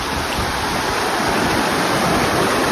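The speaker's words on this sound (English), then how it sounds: "gotta head back over this river" A full river rushes in a steady, loud broadband roar, heard up close at a Highland wild-camping crossing near Loch Einich, with no voices over it.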